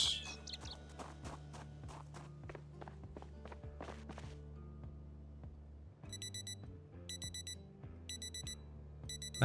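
A wristwatch alarm in the zombie survival game Project Zomboid: bursts of rapid high electronic beeping repeat in a steady pattern over quieter game sounds such as footsteps and tones.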